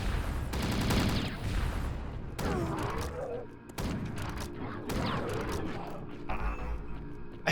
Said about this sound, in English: The rockets are kind of powerful in this. And they shoot so fast as well.